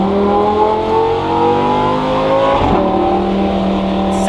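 A Lamborghini LP610-4 with factory catalytic converters revs close by, a loud rising engine note that peaks briefly around the middle before settling, with no voices.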